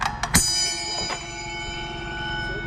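A bell being sold at a garage sale rings out with a few sharp strikes in the first half second, leaving a bright metallic tone that decays slowly and stays fairly loud across the rest of the moment.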